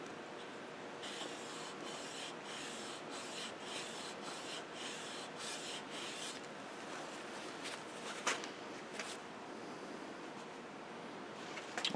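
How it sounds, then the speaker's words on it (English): Quiet, repetitive rasping strokes as the flat sole of a Stanley No. 5 hand plane is honed, a rhythmic scrubbing series that fades into fainter rubbing with a few sharper scrapes toward the end. "I might hone it just a little bit more"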